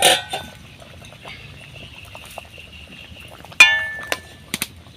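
A metal lid is lifted off a cooking pot of boiled potatoes, with a sharp clink and brief clatter of pot and lid, followed by a few lighter metallic taps; quiet kitchen background throughout.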